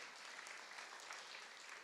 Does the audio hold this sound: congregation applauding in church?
yes